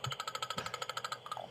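A recorded crow rattle call, a rapid run of about fifteen evenly spaced clicking pulses, mechanical and dry, ending in a brief softer note.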